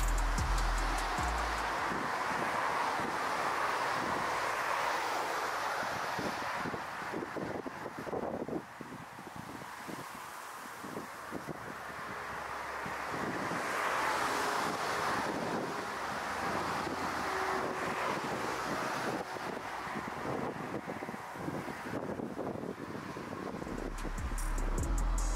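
Strong crosswind roars and buffets the microphone throughout as an airplane comes in to land, rising and easing in gusts over a low rumbling background.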